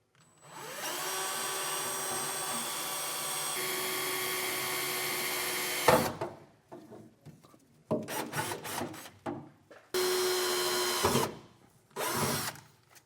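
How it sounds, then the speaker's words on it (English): A power drill with a 1/8 inch bit whines steadily for several seconds, then runs in short bursts with pauses between, close and loud, while drilling holes during a fifth wheel hitch install on a 2025 Ram 2500. "Now I'll take a 1/8 inch drill bit and"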